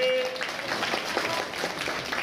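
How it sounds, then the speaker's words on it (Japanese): An audience claps steadily at the Turtle Talk show at Tokyo DisneySea, a dense, even patter of many hands that holds at a moderate level throughout with no talk over it. "みんな彼に拍手を送ってくれ"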